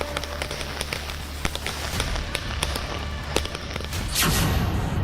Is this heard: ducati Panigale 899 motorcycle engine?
no